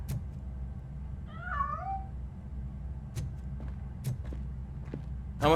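A cat meowing in RoboCop: Rogue City, one drawn-out rising and falling meow, fairly faint against a low ambient hum, followed by sparse clicks and footstep-like knocks.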